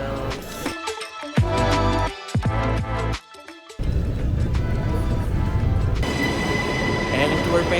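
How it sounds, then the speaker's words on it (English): A train arriving at a station in Brussels, Belgium, with loud rumbling, clattering wheels and bursts of squealing, the noise dropping briefly before a steady rolling roar resumes; voices are faintly mixed in. "That's my train that brought me here."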